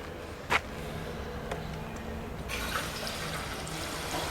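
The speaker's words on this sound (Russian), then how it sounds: "Я наливаю воду, и вот она потекла." Water poured into the steam generator of a sauna stove trickles and splashes softly and steadily, following a brief sharp knock near the start, with a faint hiss rising toward the end.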